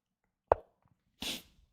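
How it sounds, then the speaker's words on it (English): A single sharp, close human sneeze, starting with a brief burst and followed about half a second later by a longer breathy exhale, in an otherwise quiet indoor room with no talking. "I'm gonna sneeze."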